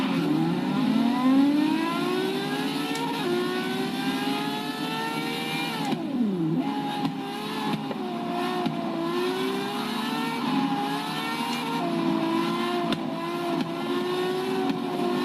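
Ferrari 599XX engine in Forza Horizon 3, revving hard and climbing through gears with rising harmonic whines, a sharp downshift drop midway, then sustained loud high-pitched engine wail, close and continuous.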